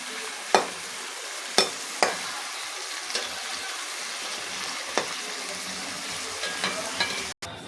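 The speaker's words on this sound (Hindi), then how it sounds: "जब तक हमारी प्याज थोड़ी लाइट ब्राउन होंगी तब तक हम इसको पकाएंगे" Onions frying in a pan for a chicken and spinach curry, a steady sizzle with a few sharp clinks of a spoon against the pan, close and alone.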